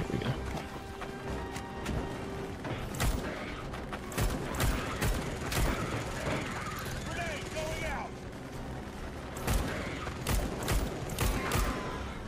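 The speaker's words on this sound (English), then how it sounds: "That's a lot of bullets." Gunfire in Starship Troopers: Extermination rattles in rapid sharp bursts, loud and close, with clustered volleys separated by short gaps, while a voice talks over the shooting.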